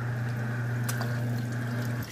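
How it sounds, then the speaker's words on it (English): A Haier XQBM22-C fully automatic compact portable washing machine running its rinse cycle, a steady pump hum with flowing water that cuts off near the end, close and moderately loud. "Dump it, rinse it, and spin, and that's it."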